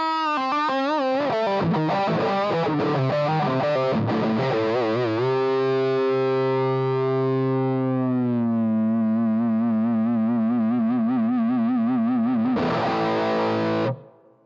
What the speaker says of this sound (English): You can hear that it's feeding back nicely as you would expect, and that's with the gain just on half.